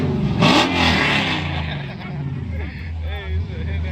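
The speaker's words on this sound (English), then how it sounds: "how high were you revving?" A car engine revs hard at a nighttime car meet, one loud rising burst near the start that settles into a rumbling idle while people talk and shout close by.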